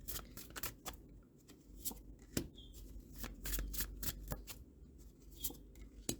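Tarot cards being shuffled by hand, a run of quick, crisp riffling snaps and soft slides repeating at an uneven rhythm, close and fairly quiet with no voice.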